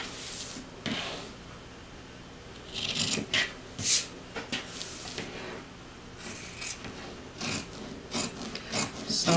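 Scissors trim the seam allowance of a fabric clutch bag lining, producing short, quiet snipping and rasping cuts at irregular intervals against soft rustling of the fabric being handled.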